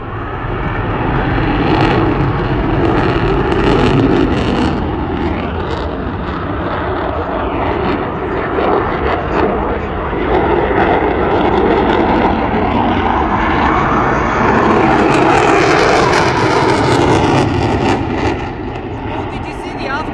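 Fighter jet making a turn at the Newcastle air show with afterburner lit, a loud, continuous broadband roar that swells toward the end, with a person talking over it.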